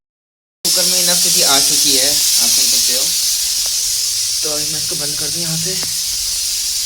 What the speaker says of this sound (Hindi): कुकर में इनफ सीटी आ चुकी है, आप सुन सकते हो।